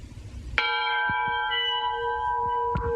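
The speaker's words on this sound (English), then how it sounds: "the bell off of the engine from outside. I'll give you a little taste of what it sounds like." An old train engine bell gives two ringing strikes, a loud clang followed by a long sustained metallic tone, then a second softer strike near the end, heard alone in a quiet room.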